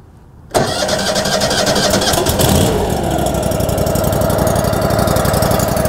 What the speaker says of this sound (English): And I'll go ahead and start the engine then.